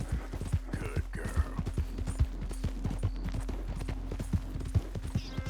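Hooves clip-clop steadily as a horse is ridden in the Red Dead video game, a brisk, evenly spaced rhythm of close, crisp knocks over a low steady hum.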